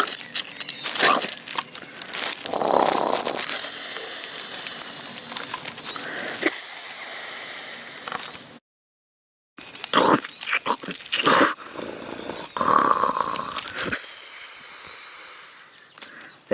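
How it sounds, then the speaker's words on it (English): Loud crunching bites and hissing snarls come in repeated bursts as a Capasuchus dinosaur tears into another dinosaur, with a brief total silence midway before the savage chewing and growling resume. "The Capasuchus is tearing into Jasper."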